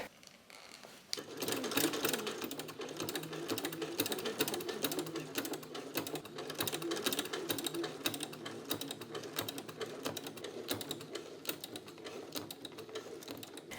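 A sewing machine stitches underwire casing onto a Versace-style evening dress, a steady rapid mechanical patter that starts after a brief pause and runs continuously, close and fairly loud, with no talk.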